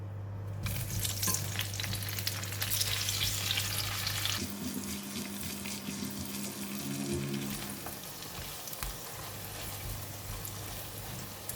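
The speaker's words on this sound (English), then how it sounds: "now we're going to fry the crab balls" Crab balls frying in a pan of leftover garlic oil give a steady, close sizzle with stirring noises, loud at first and then settling into a softer crackle after a few seconds, with no talking.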